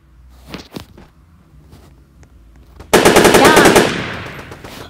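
Rapid automatic gunfire bursts out in a Roblox video game after a few quieter thumps and steps, a loud, dense stream of shots lasting about a second before trailing off.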